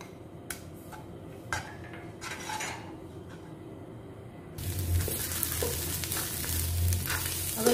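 Garlic paste frying in a tablespoon of sesame oil in a pan, with scattered utensil clicks, then a louder, denser sizzle swelling up as the paste hits the hot oil.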